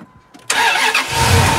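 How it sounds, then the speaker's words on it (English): A truck engine cranks and catches after a quiet moment when jump-started with a NOCO GB150 jump starter, then settles into a loud, close, steady idle. "Let's see if this thing starts."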